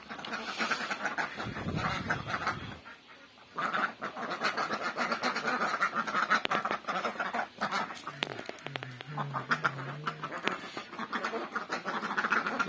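Village ducks being raised at a rural home gather near the house, quacking in scattered bursts at close range, with a few louder honking calls and occasional low human voices in the background.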